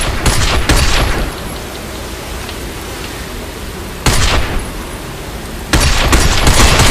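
Bursts of gunfire from the game Binary Domain aimed at a sign, loud dense volleys at the start, near four seconds and again near six, separated by a steady hissing rain-like background.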